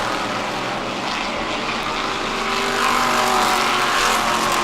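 Modified race cars with detuned engines roar past on a roughly circular track, a dense continuous engine drone that swells louder toward the end, with no talking.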